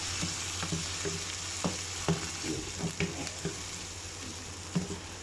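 Goat liver masala cooking in a pan after yogurt is stirred in, a continuous close sizzle with repeated soft scraping and tapping strokes of a spoon at an uneven rhythm.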